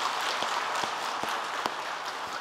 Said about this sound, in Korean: 우리 수고하신 부역자분들하고 영상팀들에게도 한번 박수로 격려해야 되겠습니다